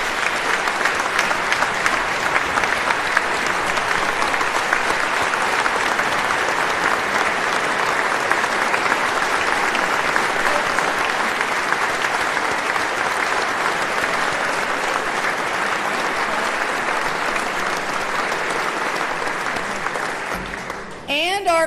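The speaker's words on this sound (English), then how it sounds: "He deserves a round of applause for that." A large audience at a governor's State of the State address applauds steadily and loudly for about twenty seconds, a dense, even wash of clapping that eases slightly before stopping abruptly.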